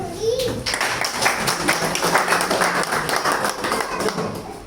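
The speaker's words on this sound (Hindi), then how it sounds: "एक बार अपनी जगह पर खड़े हो जाएंगे, इनके लिए ताली देंगे।" An audience at a spiritual gathering in Ludhiana clapping together, a dense stream of hand claps lasting several seconds with voices faintly mixed in.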